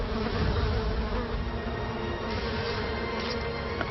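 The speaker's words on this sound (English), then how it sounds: "I found those bees." A dense, continuous buzzing of many bees fills the clip, steady and close, with no voices.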